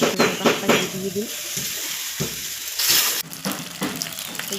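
Tomatoes frying in a pan for pasta give a steady, close sizzle, broken by scraping and stirring clatter from a utensil against the pan throughout.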